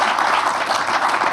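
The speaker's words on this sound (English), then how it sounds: "would you give a small ripple of applause for your panel?" A conference audience gives a brief ripple of applause for a broadcast-technology panel, dense steady clapping filling the room for about a second.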